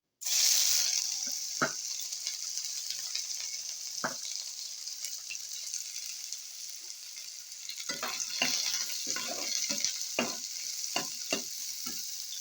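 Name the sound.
onions frying in hot cooking oil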